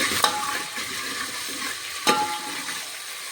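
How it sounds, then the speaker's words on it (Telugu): Onions frying in a pan with salt and ginger garlic paste for mutton curry, a soft sizzling hiss with two sharp stirring clatters, brief and moderately quiet. "ఉల్లిగడ్డలు మంచిగా వేయాలంటే ఉప్పు వేసుకోవాలి, కొద్దిగా ఉప్పు, స్పూన్ అల్లం వెల్లుల్లి పేస్ట్ వేసుకోవాలి"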